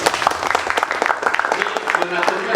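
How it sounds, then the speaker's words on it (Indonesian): Applause at an evaluation meeting for a 2022 PKW Platinum program: a dense, steady patter of many hands clapping, fairly loud and sustained for the whole stretch, with voices mixed in. "Tepuk tangan."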